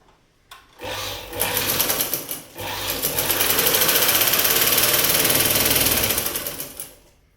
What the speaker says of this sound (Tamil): இப்போ இதை அப்படியே ஒரு மிஷினில் கொடுத்து ஒரு தையலை போட்டுருவோம்.